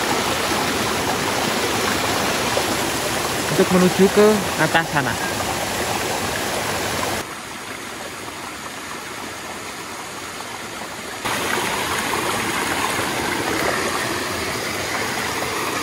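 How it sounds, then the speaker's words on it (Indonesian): A river current rushes beneath a small bridge, a steady close wash of water with a brief voice partway through and a quieter stretch where the flow sounds more distant before returning. "Ini juga ada arus sungai di sini."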